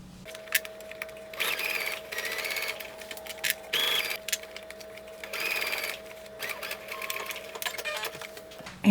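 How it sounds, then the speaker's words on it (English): A sewing machine stitches a summer top from the inside, in repeated bursts of rapid mechanical whirring separated by short pauses, close and clear over a faint steady hum. "So we're gonna sew from the inside."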